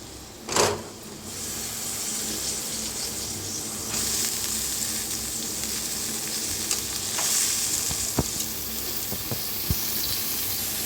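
Cabbage and potato dropping into hot spices in a pan, a sharp splash of sizzle followed by steady frying hiss with a few clinks and scrapes of stirring, up close.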